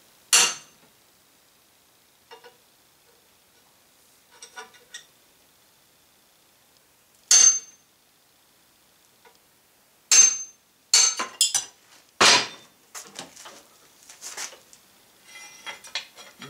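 Hammer blows riveting a metal transfer case mount bracket for a 1955–59 Chevy/GMC Napco 4x4, sharp metallic strikes scattered at first, then a quick cluster of loud hits followed by lighter taps, close and with no talking.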